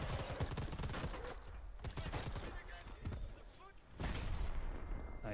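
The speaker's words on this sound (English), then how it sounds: "I threw grenades." Grenade explosions in the shooter game Predator Hunting Grounds, a series of booming blasts and bursts of gunfire rolling together, with a louder burst near the end and voices talking underneath.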